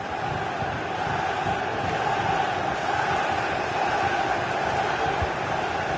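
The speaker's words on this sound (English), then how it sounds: "Well, just listen to this crowd." A stadium crowd in a football video game roars as a continuous, dense wash of cheering and chanting, steady and loud throughout with no clear commentary.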